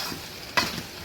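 A spiced dish with potatoes being stirred in a pan, a quiet sizzle with one sudden scrape of the spoon midway, no talking.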